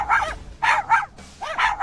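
Dogs bark in a graveyard in a spoken story, with four short, sharp, close barks in quick bursts.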